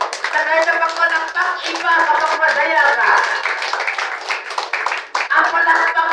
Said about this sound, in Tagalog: Palakpakan nga po natin si Lord.